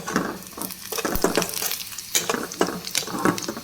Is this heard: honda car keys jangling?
no